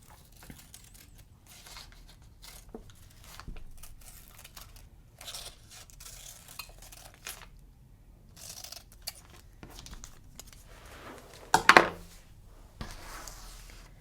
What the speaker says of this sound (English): And then you cut just outside the stencil.